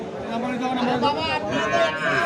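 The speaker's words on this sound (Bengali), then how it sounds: "ছোট ছোট গরুগুলো দেখি আমরা" Small cattle at a crowded cattle market near the Indian border, mooing loudly and repeatedly in long, drawn-out calls over a steady background of crowd murmur.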